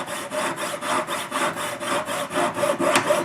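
A hand saw cuts through a silver dog tag in steady back-and-forth strokes, each stroke a rasping scrape in an even rhythm, close up and fairly loud, with no talking.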